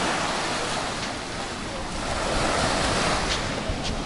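Ocean waves wash steadily onto Lanikai Beach on Oahu, a loud continuous roar of surf mixed with strong wind buffeting the microphone.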